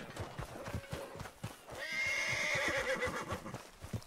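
A horse in RedM whinnies loudly and close, the long neigh rising over a steady patter of hoofbeats clopping on the ground before and after it.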